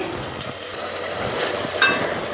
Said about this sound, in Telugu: వేసి పచ్చివాసన పోయే వరకు అయితే వేపుకుందామండి